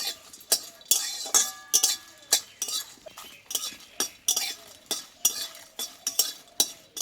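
Whole spices (bay leaves, cardamom, cloves, cinnamon and dried red chillies) being fried in a pan over a lit stove for a Bengali chickpea curry, heard as a steady series of light clinks and stirring scrapes with a faint sizzle.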